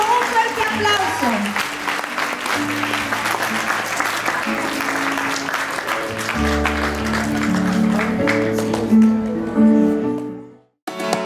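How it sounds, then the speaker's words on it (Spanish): An audience at a quinceañera celebration claps loudly over music with a steady beat and sustained tones, the applause and music running together before cutting off near the end. "Despidámonos con un fuerte aplauso."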